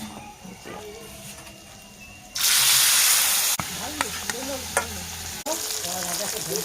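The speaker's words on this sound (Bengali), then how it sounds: "এই যে মাছগুলো এখন তেলে দিয়ে দিয়েছি" Marinated fish slides into hot oil in a wok and bursts into a loud, steady sizzle that then stays high, broken by a few clanks of a utensil, with a voice talking briefly beforehand.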